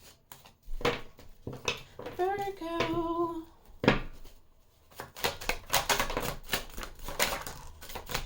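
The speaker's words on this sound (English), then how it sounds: "I'm just going to shuffle a bunch of cards and see what comes out." Tarot cards are shuffled by hand in a quiet room, crisp riffling and tapping bursts coming in irregular clusters, with a short spoken word briefly between them.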